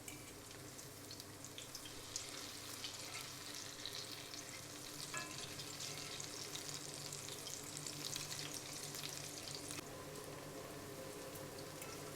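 Zucchini fritters frying in oil in a pan, a steady, soft crackling sizzle that carries on evenly throughout with a few faint clicks and no talking.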